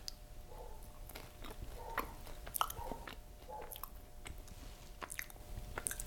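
Close, quiet crunchy chewing of a dry-roasted, chocolate-dipped snack, with a series of irregular bites and crunches over about six seconds against a faint steady hum.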